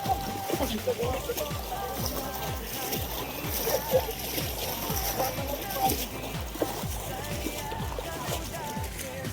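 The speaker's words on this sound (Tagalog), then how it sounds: "Ayan o, ang lalim. Lakas ng agos." Splashing from people wading through deep water with a strong current on a walk toward El Mercado de Calumpit, with steady, repeated sloshing steps under almost constant chatter from several walkers.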